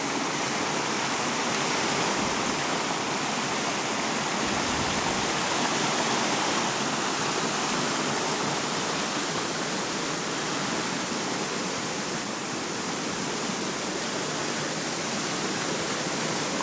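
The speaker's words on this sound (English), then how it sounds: "At the Lake Nagakoro waterfall." The Lake Ngakoro waterfall in the Wai-O-Tapu thermal area pours with a constant, even roar of rushing water, steady and unbroken throughout, with no voices.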